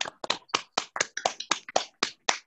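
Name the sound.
round of applause for a speaker after a talk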